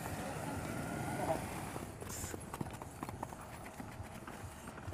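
Horse hooves walking at a horse and animal fair in Abreu e Lima, Pernambuco, a steady clip-clop of a horse being paraded amid busy crowd noise, with voices talking over it.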